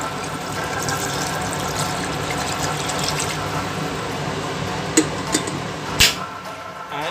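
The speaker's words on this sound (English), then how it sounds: "Next I'm going to add some water." Water poured into a cooking pan of chilli pork with fermented soy, a steady splashing, running flow close by, with a couple of brief knocks toward the end.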